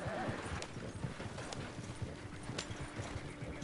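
Horse hooves clip-clop in a steady rhythm as a wagon is pulled along in the video game Red Dead Online, soft and continuous beneath a low background bed.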